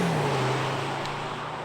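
A Skoda Kodiaq RS SUV cruises along with a smooth, steady engine drone and broad road and wind noise, even in level with no talk.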